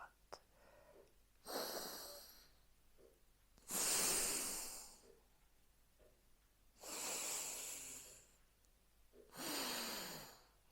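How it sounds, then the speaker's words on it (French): An alternate-nostril breathing exercise in a sophrology session: four slow, forceful nasal breaths come close and loud, each inhale or exhale a rushing hiss separated by quiet pauses. "Inspire à gauche, expire à droite."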